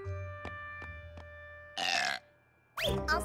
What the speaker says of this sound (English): the babies need to be burped.